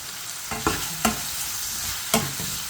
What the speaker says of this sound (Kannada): 5 ನಿಮಿಷ ಹಾಗೆ ಬಿಡಬೇಡಿ, ಮಿಕ್ಸ್ ಮಾಡ್ತಾಯಿರಿ